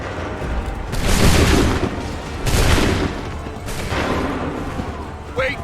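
Three loud, crackling musket volleys fired by ranks of soldiers in Assassin's Creed 3. Each volley is a broad, roaring burst that fades out, with about a second between them. Shouted commands come in with the gunfire.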